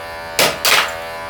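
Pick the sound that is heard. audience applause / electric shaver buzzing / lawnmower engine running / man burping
electric shaver buzzing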